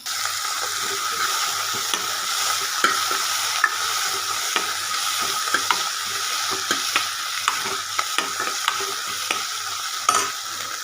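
Onions and tomatoes fry in a pan for a South Indian sambar while a spoon stirs them, making a steady, close sizzle with frequent light scrapes and taps of the utensil.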